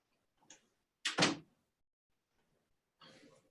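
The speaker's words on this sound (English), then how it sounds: "Just want to close the door." A door is closed indoors: a faint handling knock, then one sharp, solid thud of the door shutting, followed by quiet and a softer rustle.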